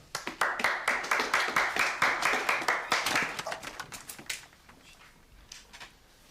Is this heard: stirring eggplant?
no